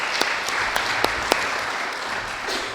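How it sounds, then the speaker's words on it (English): A crowd applauds the Athens County Auditor at the Athens Armory groundbreaking ceremony: a steady wash of clapping from many hands with a few sharper claps standing out, lasting the whole moment without any talk. "a round of applause for Jill"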